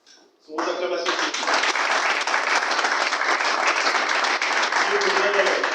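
After a short spoken introduction, an audience at the launch event of a Gabonese teachers' network erupts into loud, sustained applause, a dense steady clapping that holds to the end with a faint voice beneath it.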